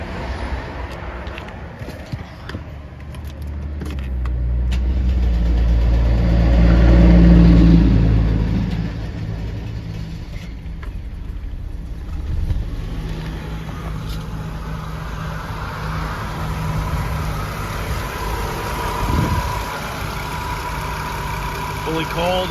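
A 1992 Mercedes-Benz 300CE, fully cold after sitting over a weekend, cranks and fires up, surges loudly, then settles into a steady idle heard up close.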